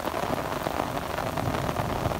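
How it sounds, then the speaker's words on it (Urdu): Heavy rain pours down steadily during a thunderstorm in Pothwar, a dense, continuous hiss of drops hitting surfaces close by, with no voices over it. "بارش نے بھی تساں سننے اس بڑا سونا آواز ہے"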